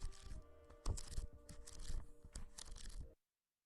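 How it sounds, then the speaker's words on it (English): Thin lined paper handled and shifted, giving a run of close, dry crinkling rustles and a few sharper crackles over about three seconds before it stops. "This is the sound of thin paper."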